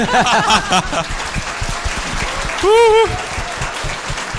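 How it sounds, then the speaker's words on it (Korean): An audience claps at a Korean talk-show discussion. The applause is fairly loud and sits under and between speaking voices, with some chuckling mixed in. "이럴 때 박수를 쳐야 돼."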